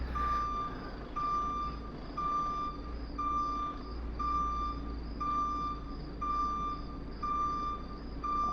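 A truck reversing in the console game Truck Driver (2019) gives a loud, steady run of single reversing beeps about once a second over a low engine hum, with no voices.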